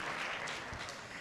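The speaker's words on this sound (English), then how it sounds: "This deserves applause too." Audience applause, a brief dense patter of clapping at moderate distance, steady and fairly faint throughout.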